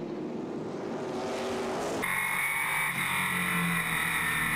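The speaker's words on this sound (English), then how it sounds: "Eddie Van Meter and Scott Hans lock horns going into turns 1 and 2." Race cars at Flat Rock Speedway roar past on the oval in an ARCA/CRA Super Series race. A loud engine whine rises and then snaps abruptly into a sustained high-pitched roar as cars sweep close by.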